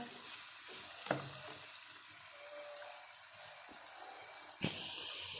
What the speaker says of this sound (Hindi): प्याज हमने शामिल कर दिए हैं। अब इनको हम ब्राउन करेंगे हल्का सा।